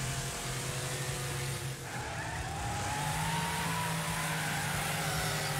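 Video game car engine droning steadily with tire skidding on a car with poor handling and weak brakes, continuous and fairly quiet, rising slightly in pitch partway through.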